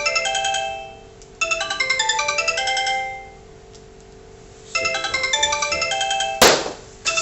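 A phone ringtone chimes in a repeating melodic burst, stops, then rings again twice, loud and close on a television show set, and a sharp bang cuts through near the end.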